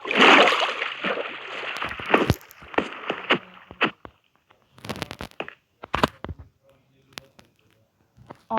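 Rowing a boat through water in a video game, with splashing and sloshing strokes that come in irregular bursts, loud and close, then thin out into sparse paddle splashes and clicks.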